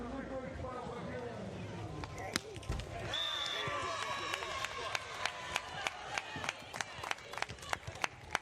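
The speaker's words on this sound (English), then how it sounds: "Crowd cheering for Andre Perusic." A crowd cheers and claps in steady rhythmic beats at a Beach Pro Tour 2024 beach volleyball match between Brazil and the Czech Republic, the noise building under an announcer's commentary.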